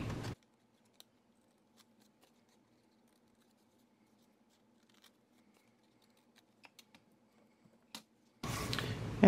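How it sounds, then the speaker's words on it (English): Scissors snip the corners off a paper guest check, a sparse string of small, close, quiet clicks and cuts in a hushed room, framed by bursts of handling noise at the start and end. "now we'll cut our little corners off"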